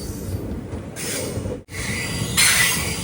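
The Silambu Express sleeper train pulls into Tiruchchirappalli Junction, heard from inside as a steady low rumble of wheels on rails, with brief brighter squeals and a short drop in the noise midway.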